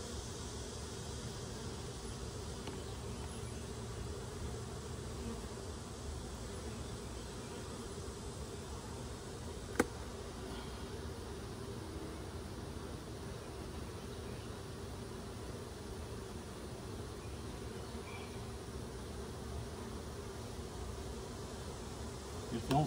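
Honey bees buzz steadily around a nuc hive, a dense, continuous drone with no letup, close and even in level, with one brief sharp tap partway through.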